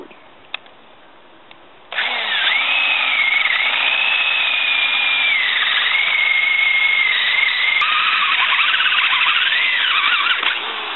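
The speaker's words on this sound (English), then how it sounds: "All we're going to do is drill two holes." After a quiet start, a power drill whirs loudly and steadily, its pitch dipping under load as it bores holes through wood, close up.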